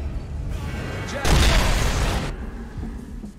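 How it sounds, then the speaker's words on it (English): An explosion in the game Bulletstorm, a single dense booming blast lasting about a second amid game sounds, then fading, with no talk over it. "Da hat's Boom gemacht"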